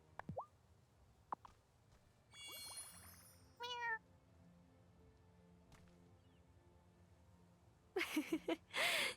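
A cat meows in the life-sim video game Wylde Flowers: a few rising and falling mews scattered across the stretch, a louder burst of chirpy meows near the end, all over soft ambient game background with no talk.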